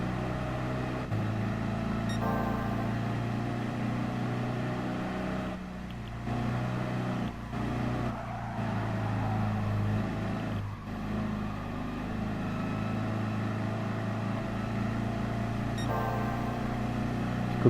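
Volkswagen Beetle engine in Gran Turismo Sport, a steady droning hum at constant speed with brief dips as the car shifts or lifts off, no talking.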